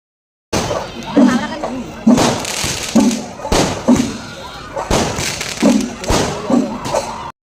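Firecrackers burst during the final day of a temple festival procession where the goddess is carried out, a series of loud irregular bangs and thuds spread across several seconds amid crowd noise.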